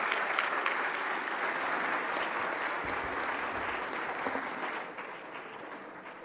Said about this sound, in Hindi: जोरदार तालियों से स्वागत करें माननीय राष्ट्रपति महोदया का।